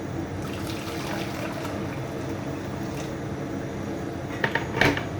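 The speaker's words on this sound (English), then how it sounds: "and to that I'm just going to add boiling water" Boiling water is poured into a cooking pot to set up a makeshift steamer, a continuous close splashing flow with a few light clinks of metal near the end.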